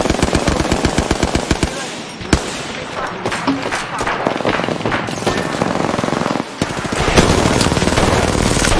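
Rapid automatic gunfire in a video game shooter, dense bursts of shots rattling almost continuously, loud and close, with brief lulls and other game effects layered underneath.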